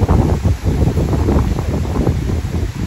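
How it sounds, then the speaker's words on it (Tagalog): Strong, gusty wind in a park buffets the microphone in a constant low roar, with no voices. "Tapos sobrang mahangin."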